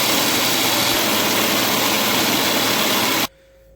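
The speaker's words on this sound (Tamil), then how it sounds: "இப்போது மிக்ஸி வச்சுட்டு ஆன் பண்ணிக்கலாம்." An electric mixer grinder runs hard, grinding soaked rice with water into appam batter in a steady, loud, even whir with a harsh buzzing edge. It cuts off abruptly near the end, leaving a faint low hum.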